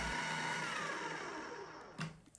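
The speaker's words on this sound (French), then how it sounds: "je mets le robot en marche, je mixe le tout environ 2 minutes jusqu'à ce que le mélange devienne liquide" A food processor runs loudly as it blends lentils, garlic and egg into a liquid mixture, a steady motor whir that slowly fades before a couple of short knocks near the end.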